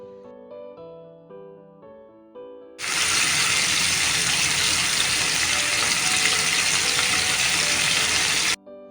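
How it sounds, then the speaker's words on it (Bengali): Fish rubbed with salt and turmeric drops into smoking-hot mustard oil, bursting into a loud, steady, close sizzle that fills several seconds before cutting off, after a stretch of quiet background music. "এখন এর মধ্যে দিয়ে দিচ্ছি আগের থেকে নুন হলুদ মাখিয়ে রাখা মাছ"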